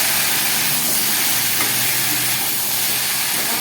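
Eggplant pieces fry in hot oil with a loud, steady, hissing sizzle that stays constant and close throughout, with no talking.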